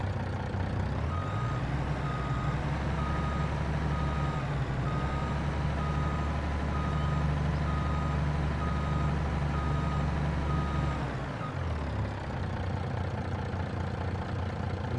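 A used dump truck in Farming Simulator 22 idles steadily with a loud, close engine drone while a continuous reversing beep repeats throughout, the engine tone dipping briefly near the end.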